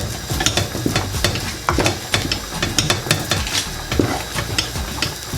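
Thick maize meal ugali being mixed and pressed in a saucepan, giving continuous close scraping, thudding and clacking of a utensil against the pot at a steady working rhythm, fairly loud and with no talk.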